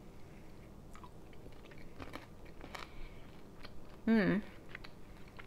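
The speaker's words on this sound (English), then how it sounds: "Let me just try a pepperoni." Someone chews a bite of chicken and pepperoni pizza, making soft, faint crunching and mouth sounds up close, with a short hummed murmur near the end.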